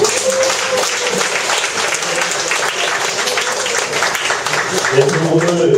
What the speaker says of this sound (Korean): 앞으로도 계속 이런 데 나올 수 있도록 큰 박수 한번